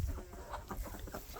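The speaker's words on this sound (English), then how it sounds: "So that chicken's trying to eat my shoes." A chicken clucks up close while pecking at a pair of rubber boots, with low, scuffling bursts of sound in short, uneven pecks.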